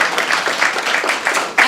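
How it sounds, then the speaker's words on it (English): An audience at a devotional morning lecture applauds, giving a dense, loud, continuous patter of many hands clapping close by. "A loud applause for our devotees"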